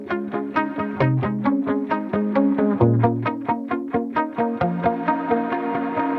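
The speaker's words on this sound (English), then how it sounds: "it's a plucked guitar riff" Plucked guitar riff from the opening bars of a song, steady rapid sixteenth-note picking with a clear repeating pattern, played alone at even loudness.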